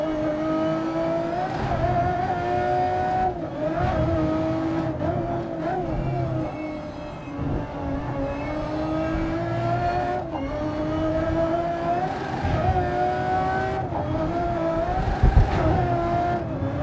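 GT race cars roar through a San Francisco track day event in the racing game Grid Legends, with engines droning loudly and continuously and rising and falling pitch as gears shift and cars accelerate.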